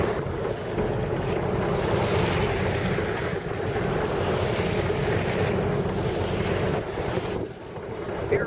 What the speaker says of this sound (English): It's not too bouncy, the waves aren't very big. Wind's blowing, about 10